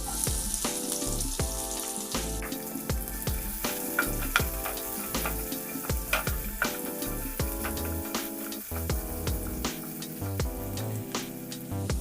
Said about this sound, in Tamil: ஒரு வெங்காயம் நீள்வாக்கில் வெட்டி வச்சுருக்கேன், அதையும் சேர்த்து நல்லா வதக்கிக்கலாம்.